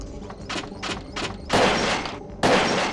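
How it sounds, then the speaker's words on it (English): Gunfire at a firing range in the Parasite Eve II video game: several short, sharp shots followed by two louder, heavier bursts, each with a brief ringing tail. "I will just tap, you know, the 3-shot fire range."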